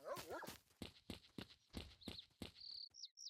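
Dogs bark in the S.T.A.L.K.E.R. video game, sounding as a run of sharp, loud, rapid yelps and barks in quick bursts, with a high electronic beeping tone near the end.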